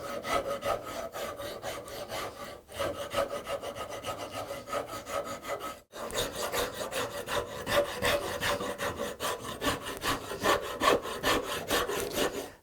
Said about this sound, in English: I'll probably switch to a rasp here, a little bit of a finer rasp